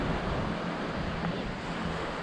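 Sea surf at a beach in Maragogi, Brazil, after days of rain, heard as a steady, soft broadband wash with some wind noise and no distinct breaking crashes.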